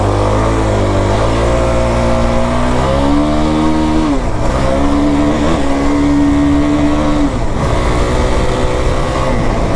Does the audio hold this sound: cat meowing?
no